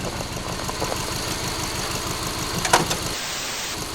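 A Subaru car engine idles steadily with a low, even rumble and a brief louder burst near the end before the sound drops away; no one speaks.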